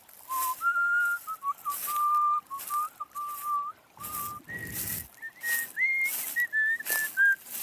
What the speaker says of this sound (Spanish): Y por eso estoy tan feliz y entro silbando.